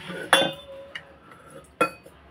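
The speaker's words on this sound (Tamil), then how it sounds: "நான் மிக்ஸி ஜார் எடுத்துக்கிட்டேன்." A steel mixer grinder jar set down and handled in a kitchen while soaked lentils wait to be ground, giving two sharp metallic clinks and a few lighter taps, close and alone.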